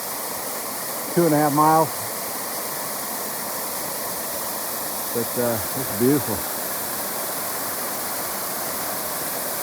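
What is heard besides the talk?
waterfall on Mount Moosilauke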